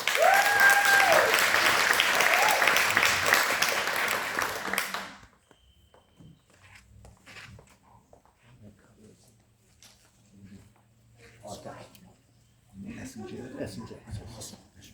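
Audience applause for Stockton city council district 1 candidates at an NAACP debate, loud steady clapping for about five seconds that fades out, followed by quiet room sounds and scattered shuffling.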